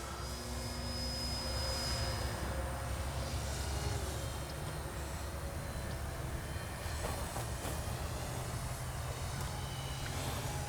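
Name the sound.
Dynam DHC Beaver V2 RC airplane landing on grass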